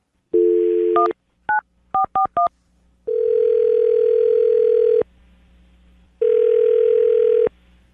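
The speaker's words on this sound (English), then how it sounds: "I'm going to dial the phone number right now" Telephone number being dialed: a quick run of DTMF keypad beeps, then two long steady ringback tones separated by a pause, loud and clear with no talking.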